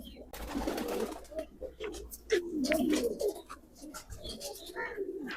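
Asal Chohy pigeons in a loft coo repeatedly up close, low throaty calls rolling in irregular bursts with light rustling and clicks between them.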